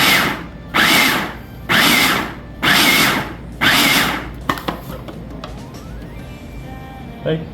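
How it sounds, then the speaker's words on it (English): A blender pulses fruit for a Trini-style fruit cake in four loud bursts about a second each with short gaps, then quieter clatter, with a voice speaking around the bursts. "Half of this, we're gonna pulse it and puree it"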